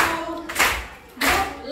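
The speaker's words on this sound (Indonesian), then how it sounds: "Tepuk tangan sambil bernyanyi." A group of children clap their hands together while singing in a classroom activity, with bursts of clapping rising over a background of voices and room noise.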